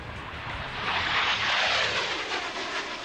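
Thirsty piston-engine aircraft idling on the ground, a loud, steady, broad roar that swells slightly and then holds, close by with no voices.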